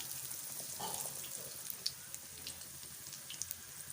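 Onion bajji fritters sizzle in hot oil, a faint, even crackle with occasional sharp pops rising above the steady hiss.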